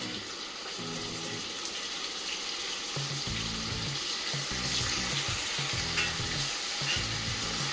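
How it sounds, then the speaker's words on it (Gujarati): Finely chopped onion sautés in a pan for Gujarati-style paneer masala, a steady close sizzle broken by repeated rhythmic scraping of a stirring spoon, with no voices. "અને ડુંગળીને પણ સાતળી લઈશું."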